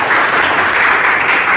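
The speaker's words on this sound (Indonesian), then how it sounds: "Oke, luar biasa, tepuk tangan untuk Ayu." Classroom applause from a group of students, a brief burst of steady, even clapping that fills the whole moment at close range.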